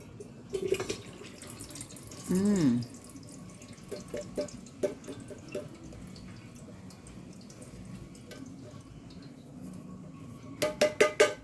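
Liquid drained from fruit through a strainer while making fruit salad: a short splashing pour, then scattered drips and light taps. A burst of quick clattering knocks closes the sequence, all close by and without talk.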